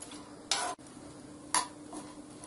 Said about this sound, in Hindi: अब इसमें हम ये कटे हुए बादाम डाल देंगे और काजू भी डालेंगे और मेवा को 2 मिनट तक हम धीमी आंच पर हल्का गुलाबी होने तक भून लेंगे